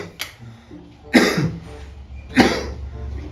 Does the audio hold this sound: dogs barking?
no